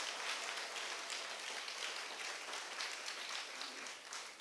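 A church congregation claps together in steady, dense applause at a Korean Sunday worship service, sustained and even for several seconds before starting to taper at the end.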